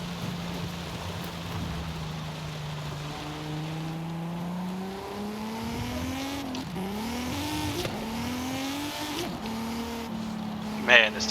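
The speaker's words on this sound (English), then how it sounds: "This engine screams." A 950-horsepower Lamborghini race car in Forza Horizon 5 revs hard, its engine note climbing in repeated rising sweeps between gear changes over a constant hiss of road and wind noise.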